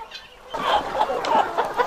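Large Goliath chickens, birds weighing up to four kilos, clucking in a farm setting, a quiet start giving way to repeated close, rhythmic clucks and calls.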